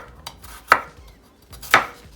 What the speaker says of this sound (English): I'm going to start with chopping up my garlic, and I'm just going to rough chop it.